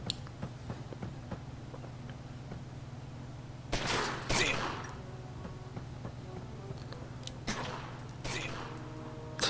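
Bursts of rapid gunfire in the game Omerta: City of Gangsters crackle twice over a steady electronic hum, with faint ticking effects scattered between the volleys.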